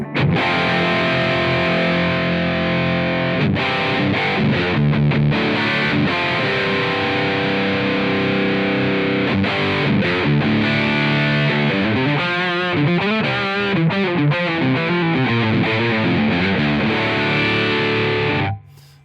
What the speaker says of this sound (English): Next one, OCD. Let's just sort of quick look at that as well.